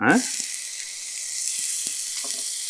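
Ginger garlic paste hits hot oil with popping mustard seeds, a sharp hiss right at the start settling into a steady sizzle with a few small pops and scrapes, and no talking.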